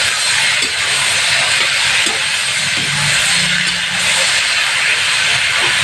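Spices frying in a pan for sajna chochuri, a Bengali drumstick dish, give a steady loud hiss and sizzle that runs without a break, with faint stirring knocks underneath and no talk.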